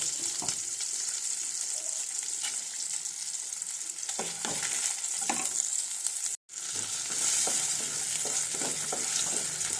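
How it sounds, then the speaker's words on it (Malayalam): Red chillies frying in hot oil in a pan, a steady close sizzle with stirring scrapes and a brief gap partway through. "മുളക് നല്ല കറക്ക പോലെ കറുത്തതുപോലെ ഇങ്ങനെ ഫ്രൈ ആക്കി എടുക്കണം കേട്ടോ"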